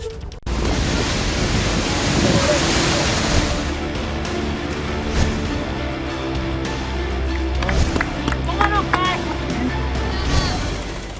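Strong floodwater waves surge during heavy rain in Katni, Madhya Pradesh, a loud, continuous rushing roar with faint voices and splashes emerging toward the end.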